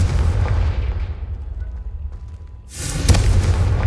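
Spell blasts in Hogwarts Legacy, a deep rumbling boom fading out followed by a second loud, bright explosive burst, with spoken incantations around them.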